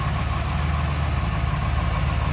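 A small-block V8 in a 1941 Ford Tudor with headers, HEI ignition and a Summit intake idles smoothly, giving a steady, loud, close rumble with an even low pulse and no talking.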